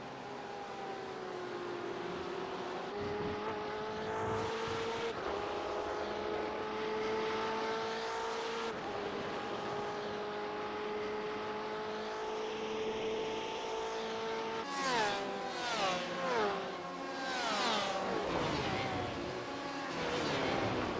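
GTE race cars in a sim racing game at Catalunya pour into turn 1 as a dense layered engine roar, droning steadily and then breaking into several quick rising and falling pitch sweeps as drivers brake and shift, with commentary running underneath.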